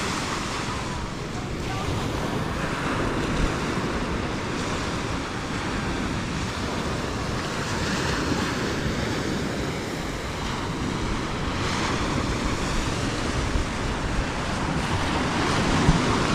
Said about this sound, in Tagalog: maliit lang yung alon eh.